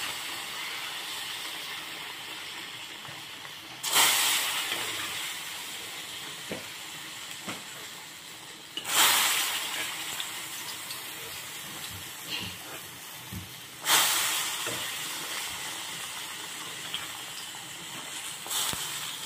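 Tamarind stew bubbling in a pot on the stove, a steady sizzling, hissing simmer close by, with three loud splashing surges as fried vadiyalu drop into the pot, and small pops between them.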